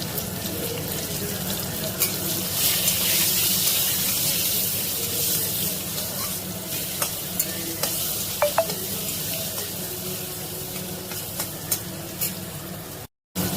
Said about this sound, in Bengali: একটা তেজপাতা আর শুকনো লঙ্কা ফোড়নে দিয়ে দিলাম। কেটে রাখা আম দিয়ে দিলাম।